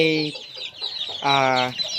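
Young chickens on a Thai farm cluck while being moved out of a storm-damaged coop to shelter from heavy rain: two loud, close bursts of calls separated by a brief pause.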